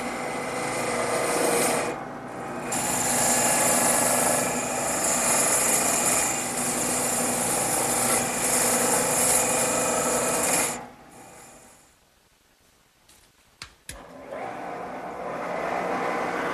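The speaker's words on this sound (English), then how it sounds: "I'm going to speed up the lathe a little bit and make the final cuts" A wood lathe spins a workpiece while a cutting tool scrapes and rasps for final cuts on a copy, a steady loud whir for about ten seconds, then a quieter stretch with a few knocks before the spinning resumes.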